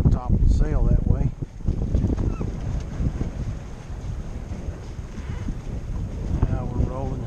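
A sailboat under way, with loud, steady wind buffeting the microphone and water rushing along the hull, while someone talks over it at intervals.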